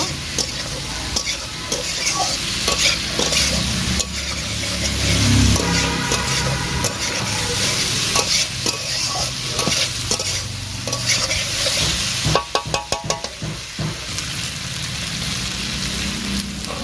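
Vegetables and spices sauté loudly in a pan, giving a dense, continuous sizzle with stirring scrapes throughout and a cluster of rapid clattering strokes near the end; no voices.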